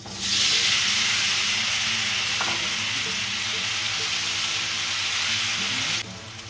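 Paneer shallow fries in hot oil in a pan with a loud, continuous sizzle and hiss, close and steady, dropping away abruptly near the end.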